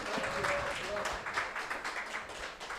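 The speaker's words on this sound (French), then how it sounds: "Acclamons pour le frère Nathanaël." A church congregation applauds for brother Nathanaël in a steady, moderately loud patter of many hands that runs throughout, with voices mixed in.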